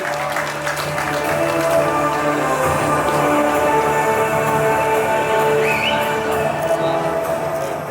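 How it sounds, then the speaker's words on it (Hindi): An audience applauds at the film trailer launch of Ground Zero as the two leading actresses are welcomed. The clapping is steady and dense for the full eight seconds, mixed with sustained background music. "जोरदार तालियां please"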